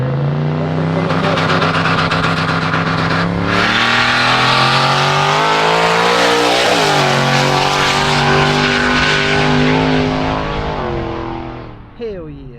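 A drag racing car makes a pass on a no-prep track, its engine roaring loud and close throughout, rising in pitch as it accelerates, then fading at the end.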